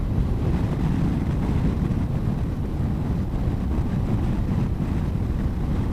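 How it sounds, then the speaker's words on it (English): Heavy wind rushing past a rider on a Honda ST1100 motorcycle at speed: a dense, steady low buffeting roar, loud and unbroken throughout. "That doesn't feel too bad considering just how much wind there is today"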